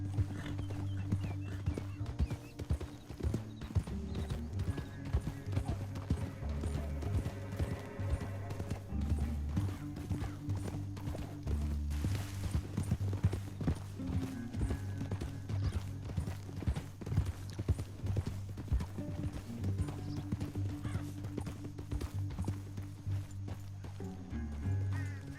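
Horse hooves clip-clop steadily throughout a Red Dead Redemption 2 ride through a canyon, close and continuous over a low musical score, with a brief whinny possible.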